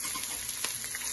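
Onion and capsicum frying in a pan with garlic for mushroom manchurian, a brief steady hiss of sizzling oil, soft and close.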